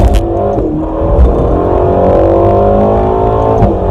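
Ferrari California T accelerating hard, its engine note rising steadily and loud from inside the cabin, with gear-shift dips near the start and end of the run.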